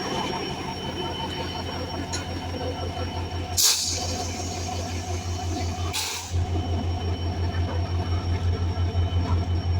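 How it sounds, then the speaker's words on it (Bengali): Benapole Express diesel train pulling out of Paturia Junction station in the rain, a steady loud engine drone with rhythmic rumble, and two sharp bursts of noise as it passes close by. "লোকোমাস্টার করা হর্ন দিয়ে কিন্তু পাতুরিয়া জংশন রেল স্টেশন ছেড়ে যাচ্ছে"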